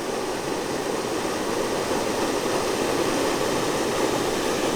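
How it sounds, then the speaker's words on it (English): Water pours steadily through an old dam on the Eleven Point River in southern Missouri, fed by a big spring, making a loud, even roar with no break. "There's all the noise. Water coming through the dam."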